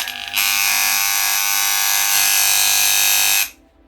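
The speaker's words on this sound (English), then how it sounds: "So this is why your liner or your clipper sounds like this." An electric hair clipper buzzes loudly with a harsh, steady hum from a frequency mismatch, starting abruptly and cutting off cleanly after a few seconds.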